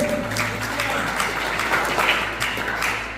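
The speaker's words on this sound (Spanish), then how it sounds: "Den un fuerte aplauso al Dios" A church congregation applauds during a Spanish-language service, a short burst of steady clapping over a low droning hum.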